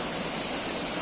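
The seven-tier Sampuren Sipitu waterfall in Pakpak Bharat roars as a steady, dense rush of falling water, loud and close, with no voices over it.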